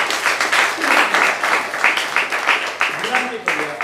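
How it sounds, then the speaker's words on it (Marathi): An audience applauds a guest of honour before a Dashavtar drama performance by a theatre academy in Surla, Goa: sustained, dense clapping from a crowd, steady and fairly loud throughout, with some murmuring voices underneath. "एक जोरदार आपण टाळ्या वाजूया"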